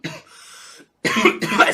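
Several coughing bursts after a hit from a Heavy Hitters Jack Herer vape cartridge, close and fairly loud, with a short breathy rasp followed by two strong harsh coughs.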